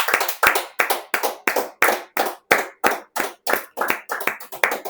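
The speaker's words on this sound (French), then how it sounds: "Nous acclamons le Seigneur pour sa parole." A church congregation claps in rhythm after a sermon, about a dozen sharp, evenly spaced claps in a steady beat, close and loud with no voices over them.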